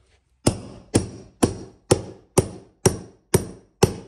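A carpet tucker is hammered to drive staples into a stair runner on an old house's stairs, eight sharp evenly spaced strikes about half a second apart, close and loud, with no talking.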